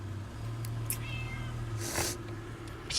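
An outdoor cat meows briefly, fairly faint and close, against a low steady hum, with a short rustling burst partway through and no talking.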